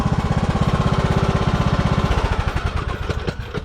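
A Husqvarna riding mower's engine runs loud and close with a fast, even, throbbing pulse that roughens slightly near the end.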